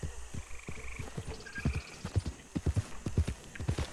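Horse hooves clip-clop in the video game Red Dead Redemption, a run of close, distinct hoofbeats in an uneven trotting rhythm, with a brief whinny-like sound and faint background noise.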